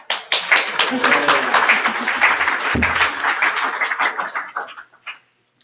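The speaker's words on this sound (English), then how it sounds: "So we're gonna give round of applause before and after each speaker." An audience bursts into steady applause for a speaker at a professional talk, many hands clapping loudly for about five seconds before the sound tapers off.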